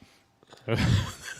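A short sudden burst of breath, like a sneeze, follows a quiet moment, close and fairly loud.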